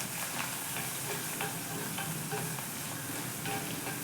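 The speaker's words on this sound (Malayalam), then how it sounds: "ഇനി നമുക്കിതൊന്ന് ഇളക്കി ഒന്ന് വഴറ്റാം" Curry leaves and long strips of ginger are stirred and sautéed in hot coconut oil. A dense, even sizzle runs throughout with soft repeated stirring scrapes, and no one talks.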